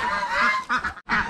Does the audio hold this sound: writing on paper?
no